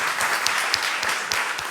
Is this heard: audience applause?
yes